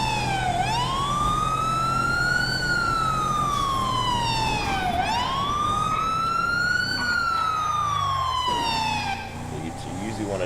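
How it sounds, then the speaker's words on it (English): A police car siren in the GTA video game wails in long rising and falling sweeps, loud and continuous throughout, easing slightly near the end. "Turn the siren off so that you don't alert people when you're pulling up to the scene."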